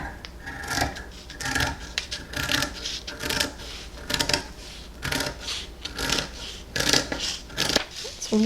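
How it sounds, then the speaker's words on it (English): Scissors cutting out fleece fabric for a stocking hat, a close run of soft snipping and rustling with fabric being handled between cuts. "And I'll go ahead and cut this out."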